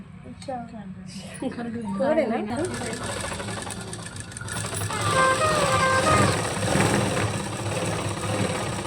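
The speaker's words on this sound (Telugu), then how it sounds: "ఇప్పుడు స్టిచ్ చేస్తున్నాను నేను." A sewing machine stitches a baby frock, its needle chattering steadily close by while someone talks over it.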